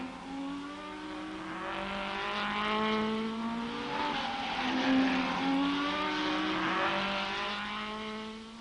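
Shelby Cobra and Ferrari race cars battle in the 1964 Tour de France Auto, their engines droning and rising and falling in pitch as they rev, one loud layered roar that carries on throughout.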